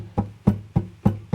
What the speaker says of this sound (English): I'm pretty much just doing this karate chopping the guitar.